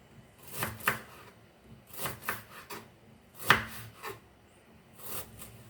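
A knife slices through an onion on a cutting board in short bursts of crisp cuts, grouped in quick clusters with pauses between, close and fairly quiet with no talking.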